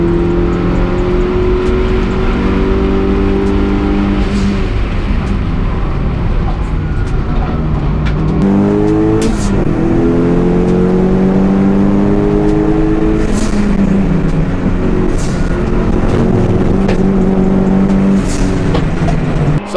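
A 400bhp Mitsubishi Evo 5 RS race car laps the Brands Hatch circuit, its engine loud and close, climbing through gears with repeated rising revs and short gaps at each shift, continuous throughout.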